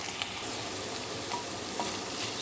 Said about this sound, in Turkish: Soğanım ve biberim de kavruldu.